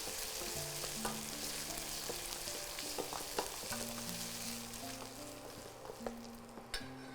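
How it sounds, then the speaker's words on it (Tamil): Eggplant and onion fry in a pan while being stirred continuously, a close, soft sizzle broken by frequent scraping strokes and small clicks of the utensil against the pan. "நல்லா கை விடாமல் கிளறிட்டே இருங்க இல்லைன்னா அடிப்பிடிச்சிரும்"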